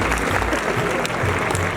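Dense, loud applause and crowd noise at a live music event, a thick continuous wash of clapping with low rumbles underneath.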